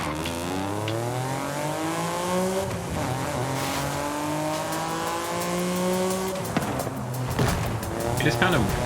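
A Honda NSX-R racing in Forza Horizon 5, its engine droning steadily with rising and falling revs and harmonic whine, continuous and fairly loud, with a short burst of tire noise near the end.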